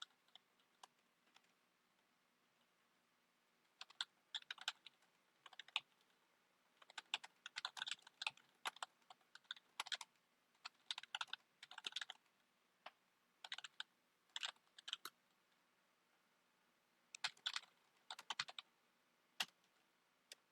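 Clicks from someone typing on a computer keyboard, quiet and close, coming in irregular bursts of rapid keystrokes separated by short pauses, with no talking.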